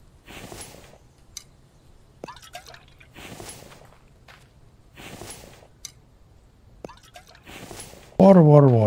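In the survival video game The Infected, water drips and splashes in four or five short, evenly spaced bursts between quiet gaps, and a voice speaks briefly at the very end.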